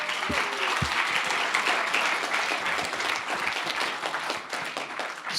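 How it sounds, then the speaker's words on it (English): Audience at a student pitch competition hosted by DALI and DEN breaking into steady, dense applause for the presenters, continuous and fairly full-bodied across the whole stretch. "Let's have a round of applause for everybody."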